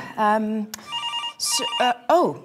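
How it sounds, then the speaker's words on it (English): A telephone rings with a bright, steady tone on a South African television show, sounding between lively speech and animated voices that dominate the moment. "Another phone call."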